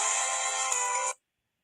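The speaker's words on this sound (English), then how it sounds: "I think we're having a phone call." An incoming phone call rings as a bright electronic ringtone tone lasting about a second, fairly loud and steady, then cutting off abruptly into silence.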